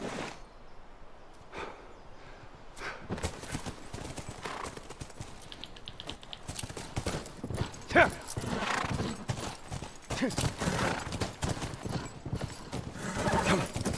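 Video game horse hooves clip-clop in a quick, steady rhythm, growing louder and denser, with a whinny partway through.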